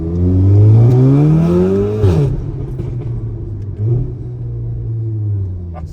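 A straight-piped Audi S3 roars loudly up through the revs while driving, its exhaust note climbing then dropping into a deep burbling rumble as the throttle eases, close and dominant.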